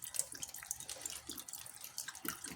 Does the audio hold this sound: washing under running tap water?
yes